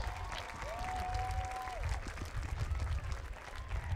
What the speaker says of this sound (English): Let's give our man one more round of applause.